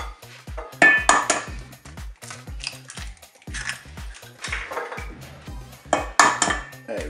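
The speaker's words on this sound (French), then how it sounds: "Allez, on va casser les œufs." Eggs cracked one after another into a salad bowl, with sharp taps and clinks of shell against the rim, then light clattering of kitchenware, close and clear with no talking.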